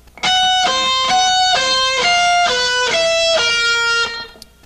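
Carlos Cavazo of Quiet Riot plays a loud, distorted electric guitar solo: a clear run of about eight sustained high notes over a sharp fifth, rising and falling in a siren-like pattern, with no voices.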